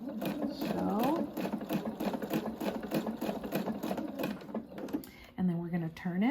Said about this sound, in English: And we're just gonna